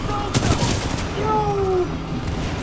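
Rapid gunfire and booming shots from the Titanfall 2 campaign play in a short burst, mixed with game sound effects and tonal beeps. A voice talks over part of it.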